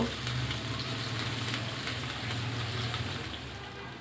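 Soft, steady crackling sizzle of chopped onions frying in oil in a pan, even and moderately quiet from start to finish.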